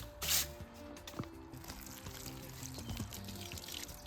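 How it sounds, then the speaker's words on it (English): Water is thrown onto freshly sawn black walnut and white oak on a sawmill, giving a splash followed by scattered drips and wet squishing, fairly faint, with a few clicks and handling noises. "this is going to be worth throwing some water on."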